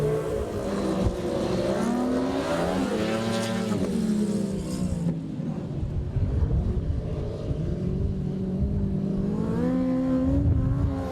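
Several racing cars lap an oval race track at Iwade, their engines loud and close, revving in rising and falling sweeps that overlap continuously as they come through a turn.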